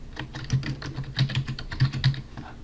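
Quick, uneven keystrokes on a computer keyboard as a document name is typed into Photoshop, a short burst of close, crisp clicks with no talking.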